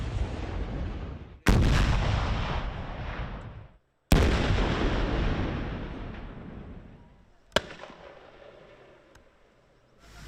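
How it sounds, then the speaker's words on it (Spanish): Controlled blasts destroy illegal gold mining machines: two heavy booming explosions each trail into long rumbling decays, followed by a sharper crack and a fainter later pop, all loud and distant-sounding. "se subieron 2 hombres a tratar de apagar las llamas que generó la explosión en esta máquina"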